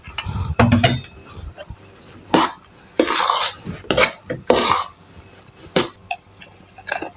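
Powdered sugar is stirred into a gram flour burfi mixture in a pan, giving intermittent scraping and clinking strokes of a utensil against the metal, close and clear, with quiet pauses between bursts.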